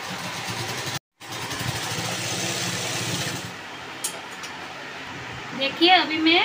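A sewing machine stitches skirt fabric with a steady, close motor whir that runs for a few seconds after a brief stop, then fades as a voice speaks.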